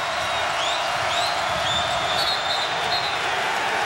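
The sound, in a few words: basketball arena crowd cheering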